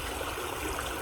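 Water flowing steadily outdoors close by, a dense continuous rushing and gurgling with no pauses, heard alone.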